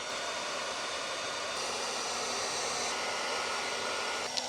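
A heat gun blows steadily, shrinking heat-shrink tubing over butt connectors while an electric trailer brake is rewired on an IronBull dump trailer axle. The broadband hot-air hiss holds even and close throughout, with a small tap near the end.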